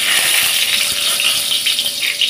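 Bay leaf and dry red chillies hit hot mustard oil in a wok and set off a loud, steady hiss of close, bright sizzling that crackles unevenly throughout, with no talking.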